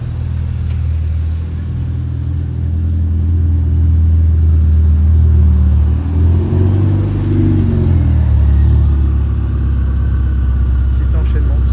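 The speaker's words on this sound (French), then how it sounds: "Et derrière on a une Pista Spider jaune" A yellow Ferrari 488 Pista Spider rolls past close by at a Monaco supercar show, its deep engine rumble swelling and fading over steady background traffic noise.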